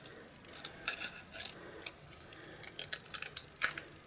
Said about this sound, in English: now I'm going to take my scissors and just cut this piece here